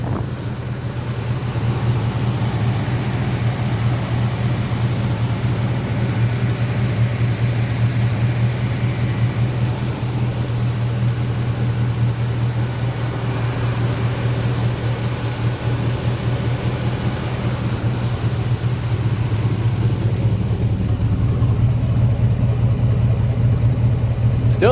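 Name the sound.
homemade racecar V8 engine running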